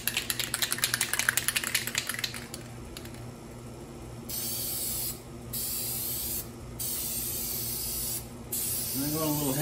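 Plasti Dip is sprayed onto a Buell XB9SX motorcycle in several short hissing bursts separated by brief pauses, close and fairly quiet, following a stretch of clicking and rattling.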